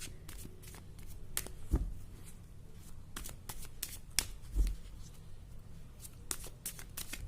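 Tarot reading cards being shuffled by hand: a steady run of soft riffling flicks and slaps over about seven seconds, fairly close and quiet, with a couple of louder taps and no talk.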